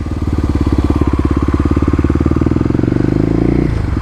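A 2018 Kawasaki KLX250 dirt bike's engine thrums loud and close while riding urban off-road trails, with a rapid, even pulsing beat that holds steady before dipping briefly near the end.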